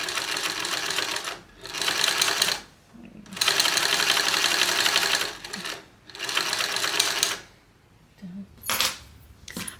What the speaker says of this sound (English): we're going to head over to the machine and top stitch it at 1/8 of an inch seam allowance along both of the long ends